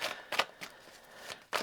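Tarot cards are shuffled in a few short, crisp riffling bursts spaced across a couple of seconds, close and fairly quiet, with no talking.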